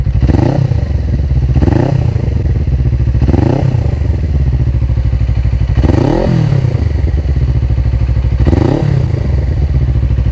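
A single-cylinder 250cc Suzuki Inazuma GW250 with a loud 3Tech Evox X3NRB racing exhaust blips the throttle at low revs, five rough rising-and-falling bursts over a steady lumpy idle, close by.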